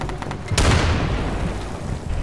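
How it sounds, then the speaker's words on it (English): A frag grenade exploding in the SOCOM video game, a single loud, deep boom with a sharp onset and a long rumbling decay, close and dominant. "I'm throwing a frag grenade!"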